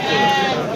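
A four-tooth sheep at a livestock market gives a single drawn-out bleat, loud and close, filling the short moment.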